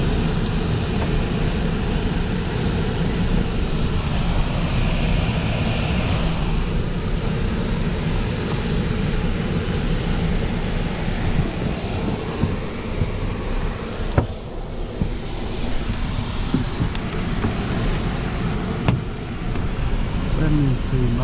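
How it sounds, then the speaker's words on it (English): A blower motor that has just been switched on during HVAC preventive maintenance makes a loud, steady broadband whoosh that runs on for about twenty seconds. "I'm fixing to turn on the blower"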